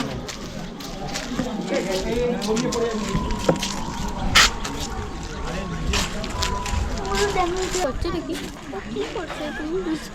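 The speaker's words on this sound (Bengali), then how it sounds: "নৌকা চালানোর চেষ্টা করছে" A boat is rowed on water in Purulia, with sloshing and splashing strokes over a windy outdoor background and voices murmuring nearby.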